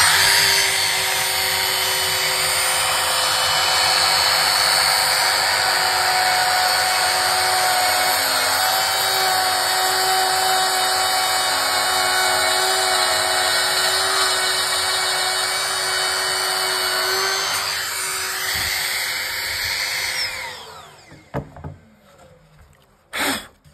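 A FARTOOLS AE 850 trimmer router fitted with a bearing-guided bit cuts wood. It gives a loud, steady high-pitched whine for about twenty seconds and then spins down, with a few clacks as it is set down.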